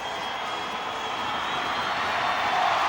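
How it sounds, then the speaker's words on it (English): A stadium crowd roars steadily at a 1995 rugby league night match as the North Queensland Cowboys run out against the Sydney Bulldogs, a broad continuous wash of cheering that swells slightly toward the end. "the crowd now rises for the entrance of the Cowboys"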